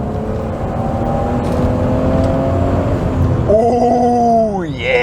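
A turbocharged MK3 Toyota Supra engine pulls hard in second gear, a steady loud drone climbing in pitch before a brief shift-like dip and a fresh rising whine near the end, heard from inside the car.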